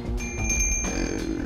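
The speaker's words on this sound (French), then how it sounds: "juste une sonnette d'entrée, de porte ou de téléphone, les premières sonnettes électriques en fait." An early electric doorbell gives a short, bright metallic ring that lasts about a second, close and fairly loud against a low background.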